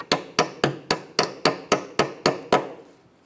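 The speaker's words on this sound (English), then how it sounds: "You can use a little hammer or something just to kind of hit it into place." A small hammer taps a brake hose lock into place on a 2007-2012 Nissan Altima ten times in a steady, quick rhythm, each blow sharp and close, then the tapping stops.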